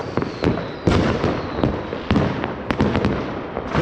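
New Year's fireworks and firecrackers in Germany crackle and bang in rapid, irregular bursts, some sharp and close, others distant, layered over a steady noisy roar.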